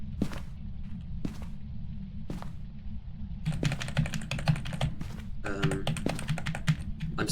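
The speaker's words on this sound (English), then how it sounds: "my keyboard's horrible" Clicky computer keyboard typing during a Phasmophobia gaming session, bursts of rapid keystrokes with brief pauses, fairly close and fairly loud over a low steady background hum, with no talking.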